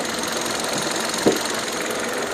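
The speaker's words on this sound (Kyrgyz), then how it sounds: "Мында мотор өтө сонун иштеп турат." Hyundai Solaris 1.6 with automatic gearbox idling close up with the bonnet open, a steady, even engine hum with one brief knock midway and no talking.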